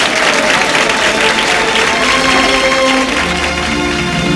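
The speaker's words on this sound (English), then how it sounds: "Let's hear it for the great Jake LaMotta, ladies and gentlemen." An arena audience at a boxing match gives a full, dense round of applause to a middleweight contender, loud and continuous from start to finish.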